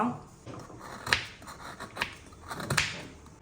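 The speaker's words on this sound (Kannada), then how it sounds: "ಒಂದು ಮುನ್ನೂರು ಗ್ರಾಮಿನಷ್ಟು ಬೆಲ್ಲ ತೆಗೆದುಕೊಂಡಿದ್ದೇನೆ ಇದನ್ನು ತುರಿದುಕೊಳ್ಳುವ" About 300 grams of jaggery being grated in a home kitchen: a few sharp scraping strokes spaced out over the clip, close and moderately loud against a quiet room.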